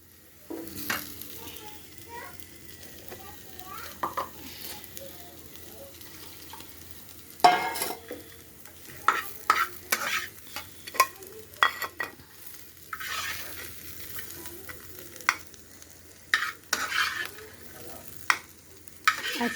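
Pointed gourd (potol) fries in a pan with a soft steady sizzle, broken by irregular sharp scrapes and knocks of a spatula stirring the pieces, close and moderately loud.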